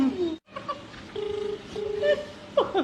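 A phone rings out on a call, with steady electronic tones repeating in short evenly spaced bursts, preceded by brief chatter and faint laughter near the end.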